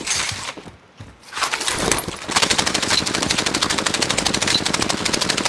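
Loud, sustained automatic gunfire in an online first-person shooter match, rapid shots rattling close by after a brief lull, with no talk over it.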